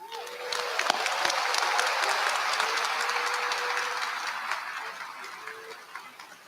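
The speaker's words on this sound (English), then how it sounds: "let's give a round of applause to a legend" An audience at a Southern University Law Center commencement ceremony applauds Senator Cleo Fields, a sustained wash of clapping at moderate distance that swells quickly and slowly tapers off over six seconds.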